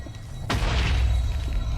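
A sudden deep boom erupts inside a modded Minecraft skyblock game, FTB Expert Skyblock, followed by a rumbling tail that fades slowly over steady background noise.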